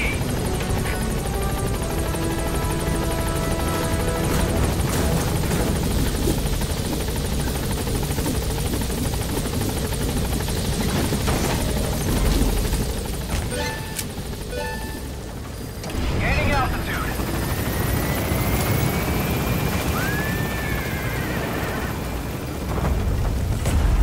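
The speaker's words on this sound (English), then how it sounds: "you want to make sure to call your helicopter as soon as you can" Helicopter in the Metal Gear Solid V video game, a steady loud rotor and engine drone running throughout with a brief dip midway, while a voice talks over it.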